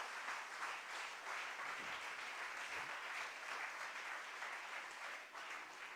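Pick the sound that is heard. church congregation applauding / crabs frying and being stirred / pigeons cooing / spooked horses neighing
church congregation applauding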